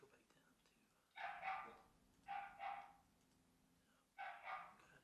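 A dog barks in the background during a remote township board meeting held over a phone line, three bursts of a couple of barks each, slightly muffled and distant.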